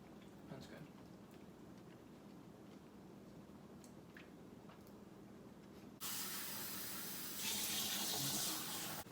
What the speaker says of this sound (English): I just washed my hands